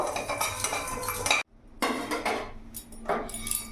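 Whole cardamom, cinnamon, cloves and black peppercorns dry-roasting over full flame in a dry kadai, with clattering metal stirring and scraping that stops briefly before resuming, close and fairly loud with no talking.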